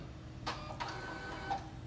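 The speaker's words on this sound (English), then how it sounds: "I want to go to the front of the printer on the display and hit the feed button." Label printer feeding out two or three tags, a few soft mechanical whirs and clicks in short bursts at close range, fairly faint and heard alone.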